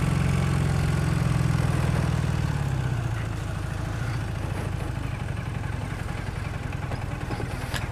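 A 1981 Honda CB400 motorcycle engine runs steadily in traffic, a close, continuous low throb that eases slightly in pitch as the clutch slips, with no talking.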